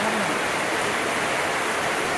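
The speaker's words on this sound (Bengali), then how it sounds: "রাতের মধ্যে এখন আমরা ফেসে গেছি বৃষ্টির মধ্যে" Steady rain falls at night, a dense, even hiss of water with no distinct drops or pauses, filling the whole stretch with no voices.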